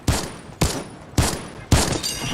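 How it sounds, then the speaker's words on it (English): Four loud rifle shots from a video game, evenly spaced about half a second apart, each a sharp blast with a short decaying tail and no voices. "Oh, this rifle curves the shots."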